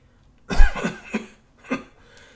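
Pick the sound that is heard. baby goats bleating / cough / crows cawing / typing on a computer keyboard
cough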